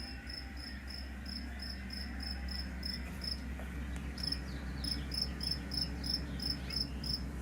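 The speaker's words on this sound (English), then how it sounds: "we'll be able to hear the cricket better if it's still out there" A cricket chirps outdoors in a steady series of bright, repeated pulses with a brief pause midway, heard at moderate distance over low ambient hum.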